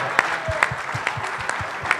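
Audience applause for dancers at a celebration, clapping mixed with a rhythmic low thumping beat, moderately loud and continuous over two seconds.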